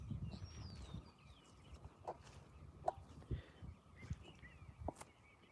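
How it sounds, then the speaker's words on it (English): Faint, scattered bird chirps ring out over a quiet rural cemetery in Middle Tennessee, with soft nearby rustles and steps in an otherwise still setting. "Just the birds."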